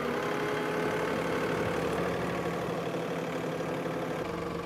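A compact tractor's engine runs steadily as it drives up, a continuous mid-low mechanical drone that stays fairly close and even throughout, with no talking.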